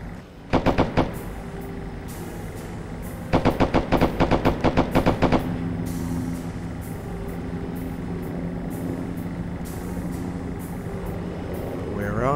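Bursts of automatic gunfire in the military video game Arma 3 during an insurgency mission: a short quick volley, then a longer rapid string of shots, over a steady engine-like drone that continues afterward.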